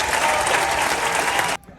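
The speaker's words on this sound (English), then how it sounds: "Let's give them a round of applause, everybody." Audience applause aboard the Carnival Vista cruise ship: a dense, steady clapping crowd, loud and close, sustained for about a second and a half before cutting off abruptly into quiet.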